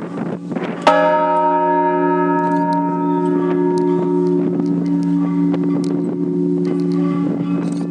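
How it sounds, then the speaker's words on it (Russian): A newly consecrated one-and-a-half-tonne bronze church bell strikes once and keeps ringing with a rich, humming tone that hangs in the air, with faint wind and small knocks underneath. "Полуторатонный бронзовый благовест запел"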